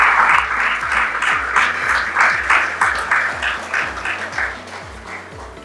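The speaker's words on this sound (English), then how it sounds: "can you please give these students a round of applause" Applause for graduating students receiving awards at a secondary school graduation ceremony: a dense, steady round of clapping from an audience that swells and gradually tapers off over several seconds, with a low musical tone underneath.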